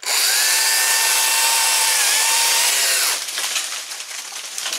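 A Stihl 160T cordless pruning saw cuts through a tree branch with a steady, loud high-pitched whine that shifts to a rougher, choppier buzz as the cut finishes.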